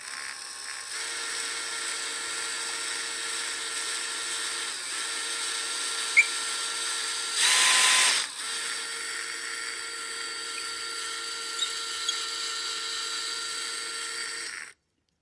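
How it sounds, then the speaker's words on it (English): A power drill running on low speed drills out a handle on a Doepke Super Yardbird ride-on train, a steady close whine lasting most of the time, briefly rising louder midway before cutting off. "just put the drill on low and we'll drill it out"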